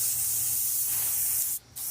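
An airbrush sprays pearlized black paint onto a largemouth bass lure in a close, steady hiss that cuts out briefly near the end before resuming.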